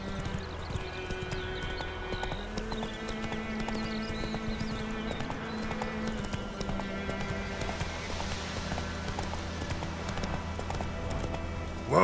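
Roach the horse moving along in The Witcher 3, with a steady, close clip-clop of hooves running under sustained music-like tones, with a short louder thump at the very end.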